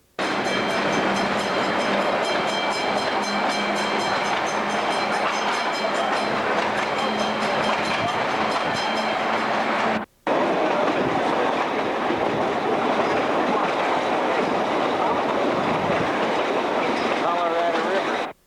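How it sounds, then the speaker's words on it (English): A passenger train on the line between San Jose and Puerto Caldera in Costa Rica rolls past close by. Loud, continuous rumble and rhythmic clickety-clack on the rails run throughout, with a brief break partway through. "There's the rest of the train."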